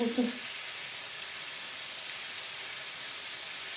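Onions sizzle in a pan, with salt added, while plov is being cooked: a steady, even frying hiss that fills the whole stretch, with a brief low clatter at the very start.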